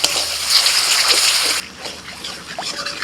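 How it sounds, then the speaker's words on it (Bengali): Water is poured into cooking masala in a pan, giving a loud splashing gush for about a second and a half before it settles to a softer bubbling trickle. "এবার জল দিয়ে দিচ্ছি।"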